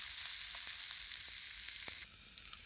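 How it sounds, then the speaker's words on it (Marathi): Fried bombil fish in masala sizzling on an iron tawa over a village wood-fired stove, a steady close crackling hiss with small pops, fading slightly near the end. "लोखंडी तवा असल्यामुळं त्याचा किती छान आवाज येतो बघा."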